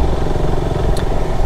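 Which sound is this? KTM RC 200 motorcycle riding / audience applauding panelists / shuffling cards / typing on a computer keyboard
KTM RC 200 motorcycle riding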